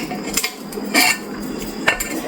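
Cooked kochu bata, a mashed taro dish, being scooped onto a plate: a few close metal-on-ceramic scrapes and clinks in three short bursts, with no talking.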